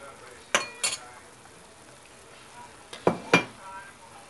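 A few separate spoon-against-pot clinks and scrapes ring out as Korean radish beef soup is stirred, two near 0.5–1 s and two more near 3–3.4 s, over a quiet background.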